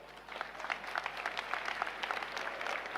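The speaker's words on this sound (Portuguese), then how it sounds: "Vamos aplaudir juntos a Jesus Cristo" A church audience applauding, dense steady clapping from many hands at moderate distance.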